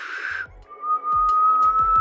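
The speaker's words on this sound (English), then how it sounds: "That's me blowing out to whistle" A person whistles by blowing air outward instead of using fingers, producing a thin sustained tone after a short breathy rush, with soft low thumps beneath, made for a cartoon.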